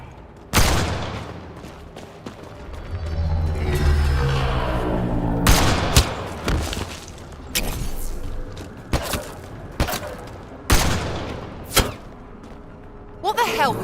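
Gunfire in the sci-fi shooter Mass Effect: Andromeda, with a burst of sharp shots followed by a run of loud, irregular single cracks and thumps, heard alongside shouted in-game voices.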